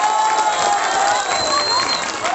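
An audience at a Sundanese Islamic sermon applauds and cheers for the santri and kiai: a steady, dense wash of crowd noise with clapping and shouts, with no pauses throughout.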